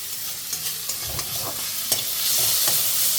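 Sliced onions fry in hot oil in a pan for a chicken vegetable pulao, with a steady bright sizzle and scattered scraping clicks as a spoon stirs them. No one speaks.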